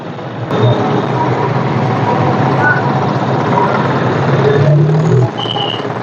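Tractors idling at a Maratha reservation tractor rally in Karad, a loud steady low engine rumble from several machines with a deeper throb rising briefly near the end, heard close and outdoors without clear talk.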